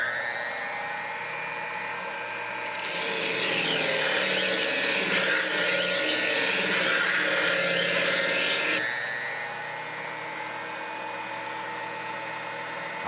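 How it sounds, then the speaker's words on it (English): A knife is sharpened on a powered sharpening machine run at speed setting 7, a steady high motor whine that swells into a louder grinding hiss for several seconds, then settles back to the motor hum. "Now we're going to sharpen this knife as normal."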